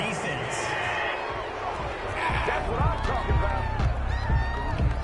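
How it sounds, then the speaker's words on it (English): Home stadium crowd in a PS4 American football game cheering after a penalty call, a steady roar that swells midway, with commentators talking over it. "This home crowd, they're happy with that call."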